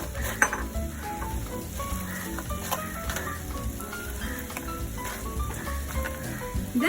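Crispy fried potatoes for Indo-Chinese honey chilli potato go into a hot pan and are tossed, giving a steady close sizzle with scraping stirs and light clinks of utensil on metal throughout.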